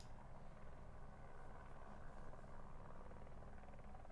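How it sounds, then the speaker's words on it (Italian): A helicopter flying overhead, heard as a steady, dense rotor and engine rumble that fills the background at an even level throughout, with no pauses or talk over it. "Io sento l'elicottero che ti copre tutto"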